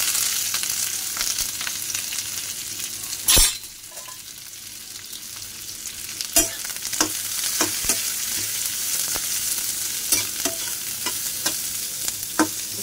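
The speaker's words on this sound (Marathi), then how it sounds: "चांगला लालसर कांदा भाजून घ्यायचा। थोडंसं तेल टाकायचं।" Onions frying in a little oil, a steady close sizzle with intermittent stirring scrapes and a few sharp spoon clicks against the pan, one louder knock early on.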